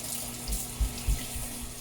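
Water runs from a kitchen tap to dampen a Norwex cleaning cloth, a soft steady splashing stream with a few low thumps as the cloth is moved under it, fairly quiet and close.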